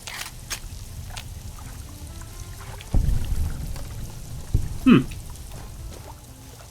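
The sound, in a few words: water leaking in a room in Fallout video game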